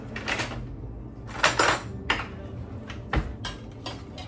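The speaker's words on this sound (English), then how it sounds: "Let me spoon up the 3 cups of mac and cheese here" Spoon scraping and clinking in a cooking pot while scooping mac and cheese, a few distinct metallic knocks and scrapes at irregular intervals, close and moderately loud in a quiet kitchen.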